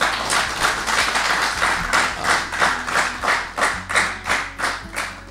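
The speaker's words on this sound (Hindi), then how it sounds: "तो बहुत ज़ोर तालियाँ" Studio audience at a televised debate competition applauding a judge, loud close clapping that falls into a rhythmic, pulsing unison beat, swelling and dipping roughly twice per second, with faint low hum underneath.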